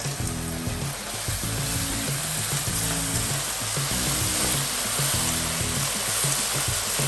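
Cauliflower florets hit a hot pan of Gobi Manchurian sauce, setting off a loud, steady sizzle that holds for several seconds with no talking, a low hum running underneath.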